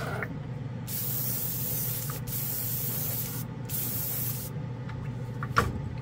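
An airbrush fed by a cheap tank air compressor at about 22 PSI sprays paint in steady close hissing bursts, broken by a few brief pauses.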